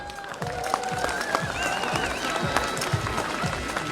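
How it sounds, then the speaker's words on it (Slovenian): Audience at a mayor's reception in Radovljica applauds the Lesce wind orchestra: scattered, fairly loud clapping with distinct individual claps and some faint crowd murmur and brief tonal sounds in the background. "dajmo še za njih en velik aplavz"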